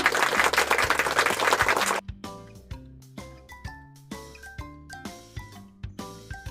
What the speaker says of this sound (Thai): ปรบมือให้คนเก่งของทีเชอร์ทุกคนเลยนะคะ